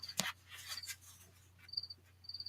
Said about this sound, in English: Y'all know how I feel about the crickets at this time of the year